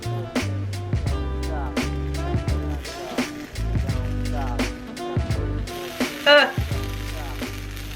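Food sizzles on a hot griddle during plant-based cooking, a steady close frying hiss running under background music.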